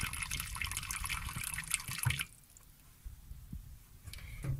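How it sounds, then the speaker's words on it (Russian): Water pours steadily into a jar of cucumbers being prepared for cold pickling, with a rushing, splashing sound, then stops abruptly as the jar is filled to the brim, leaving quiet drips and faint trickling. "наливаем так, чтобы вода у нас была, как говорят, с горкой"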